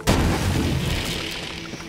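A toxic barrel blows up in the video game Borderlands 3 after a slide tackle knocks into it, giving one loud, sudden boom that decays into a rumbling tail over a couple of seconds.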